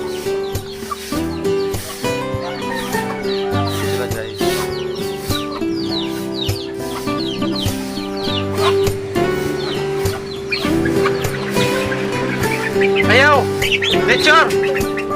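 Chickens cluck and squawk repeatedly close by over a steady humming, tonal background.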